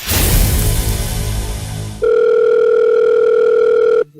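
A telephone call goes unanswered: a loud steady ringback tone holds for about two seconds after a burst of noise, then cuts off abruptly.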